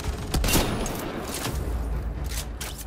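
Gunfire from the video game Mass Effect Andromeda crackles in several quick bursts and booms over a dense layer of game noise, fairly loud and continuous through the short stretch.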